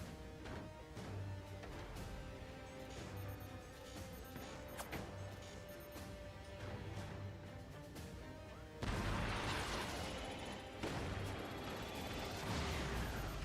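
Howitzer artillery fire in a video game: repeated thuds and crashes sound at a moderate distance, then a denser, louder barrage of blasts and crackle takes over in the last few seconds.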